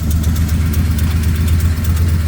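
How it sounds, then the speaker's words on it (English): Ford F-150 engine running roughly with a suspected blown head gasket, a loud close idle with an uneven, pulsing low rumble and no talk. "tried to start it, and it started, but it ran very poorly. It sounded like this."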